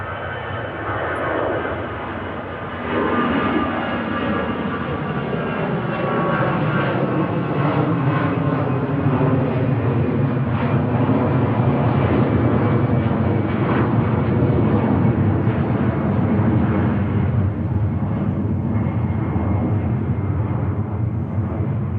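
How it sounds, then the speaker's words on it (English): An EasyJet airliner climbs away after takeoff at Manchester Airport, its jet engines giving a sustained, rumbling roar with a slowly shifting whine, fairly close and strong throughout. "EasyJet airborne."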